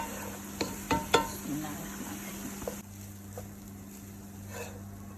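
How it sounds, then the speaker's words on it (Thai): Rice tossed with sauce and seasoning in a pan for tuna fried rice, a spatula knocking and scraping in several quick clanks over a sizzle that then settles into a quieter, steady fry. "ใส่ข้าวลงไปบิสิลลา คลุกเขาเข้ากับ ซอส ให้เข้ากัน"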